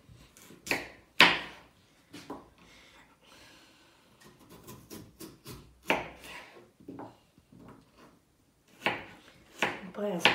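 Irregular knife chops through carrots on a cutting board, sharp close knocks in uneven bursts with pauses between them.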